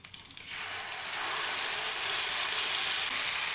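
Whole green and black cardamom pods and curry paste frying in a pan on a stove, a broad hissing sizzle that swells in after a quiet start and holds steady and close.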